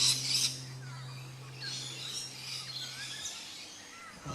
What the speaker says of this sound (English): You can hear parrots in this video